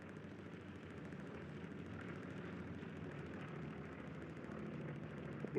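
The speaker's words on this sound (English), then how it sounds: "Recon plane going over." A recon plane drones overhead in the video game Hell Let Loose, a steady propeller engine hum holding at moderate distance throughout, with no talk over it.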